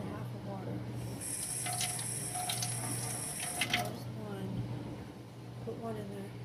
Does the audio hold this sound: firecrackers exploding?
no